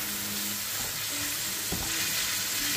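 A chicken tikka mixture being mixed and fried in a pan, giving a loud steady sizzle with a few scraping stirs, close and continuous, no voices.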